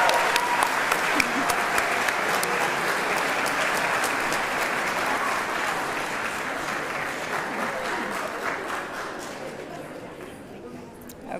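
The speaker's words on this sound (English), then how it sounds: "Let's give the nurses a round of applause." Sustained audience applause for nurses at a pre-licensure pinning ceremony, loud and steady at first with sharp individual claps, then thinning toward the end, with crowd chatter mixed in.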